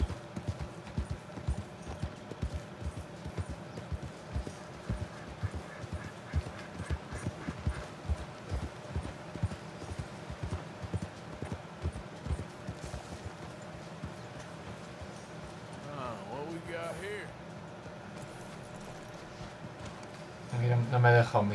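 A horse trots in Red Dead Redemption 2, its hooves clip-clopping in a steady, rapid rhythm for most of the stretch before slowing, with game ambience underneath and a brief louder thump at the end.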